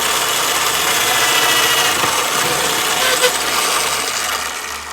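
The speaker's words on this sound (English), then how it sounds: "Turn on the drill press." A drill press runs with a reaming bit lowered into holes during repair of a 1910 Seth Thomas 89C clock, giving a steady, loud motor hum with broadband whine that holds throughout.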